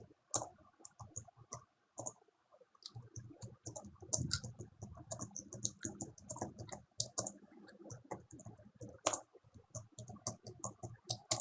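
Rapid, irregular clicking of computer keys being typed, close up, in uneven bursts with short pauses, no voices.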